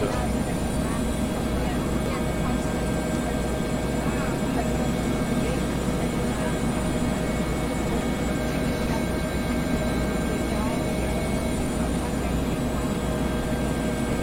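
Steady, continuous rotor and turbine drone of a Bell 412 helicopter in the X-Plane 11 flight simulator, holding a constant loud level throughout with no breaks.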